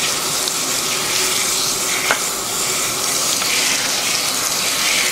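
Water runs steadily from a tap while bleached hair is rinsed at a sink, a loud, even, close gush that holds the same level throughout, with no voices.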